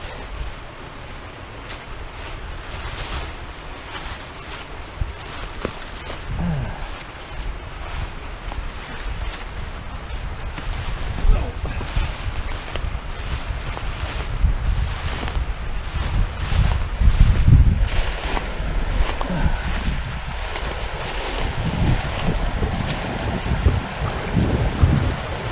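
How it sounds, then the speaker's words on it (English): A creek in Adkins Canyon in the Ozark National Forest, Arkansas, flows with a steady broadband rush of water, mixed with gusts of wind buffeting the microphone, continuing for over twenty-five seconds. "Creek is beautiful."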